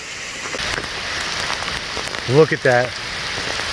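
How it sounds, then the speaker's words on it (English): Steady rain patters down on a forest hiking trail in Stone Mountain State Park, a constant hiss over the whole stretch, with a brief spoken comment near the end. "it's raining good"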